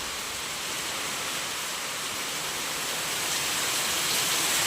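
Heavy rain pours down steadily as a dense, even hiss that grows slightly louder toward the end, with no voices.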